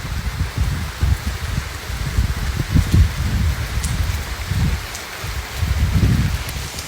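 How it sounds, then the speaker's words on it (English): Heavy tropical rain pours steadily and close by, a dense continuous hiss with low drumming on surfaces and no voices. "It rains like this every day."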